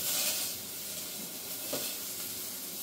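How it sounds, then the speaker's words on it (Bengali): Steady frying sizzle in a pan with soft scraping stirs as khichdi ingredients are fried, close and continuous, no voices. "এটা একটু নাড়াচাড়া করে ভেজে দিই"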